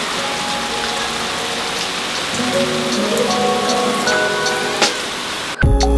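Steady rain falls throughout a storm, a dense even patter on surfaces with a few droplet ticks rising over it, ending in a sudden louder clatter right at the end.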